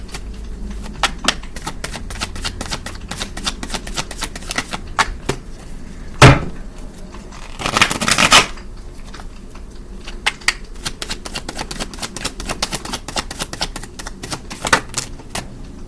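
Tarot cards are shuffled in quick irregular clicks and flutters, with a couple of longer riffling bursts midway, close and fairly quiet with no talking.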